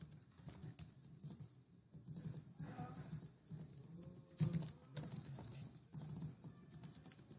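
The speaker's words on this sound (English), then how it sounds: "I'm just going to type programming for fun." Faint computer keyboard typing of a short phrase into a Python editor, soft irregular key taps in bursts across several seconds in a quiet room.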